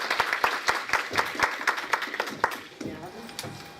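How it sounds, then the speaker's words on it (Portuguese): Audience applause at a fashion forum panel in São Paulo, scattered individual claps at first, then thinning out as a voice speaks over the tail end. "Uma salva de palmas para ela"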